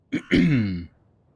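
Someone clears their throat twice, a short rasp followed by a longer, rougher, voiced clearing, loud and close, then silence. It is heard during an interactive Sorcery fantasy game.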